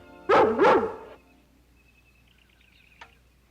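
A cartoon dog barks twice in quick succession, loud and close, followed by quiet with a faint high chirp and a brief click.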